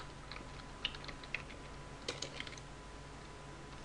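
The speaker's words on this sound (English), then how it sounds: "Looking on my keyboard like I actually going to find something important." Someone types on a computer keyboard in a quiet room, with scattered, uneven clicks and small clusters of keystrokes over a few seconds, soft and close.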